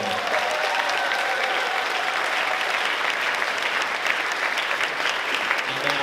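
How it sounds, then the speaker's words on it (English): An audience at a high school spring concert applauds a student small ensemble, a steady, dense clapping that stays loud and even throughout. "let's hear one more round of applause for your Topsail High School Small Ensemble"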